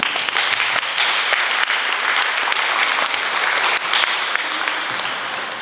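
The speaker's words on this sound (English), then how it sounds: "Let's give them a round of applause." A crowd applauds steadily at a student takeover day in Pohnpei, a dense, continuous wash of clapping that holds at an even level throughout.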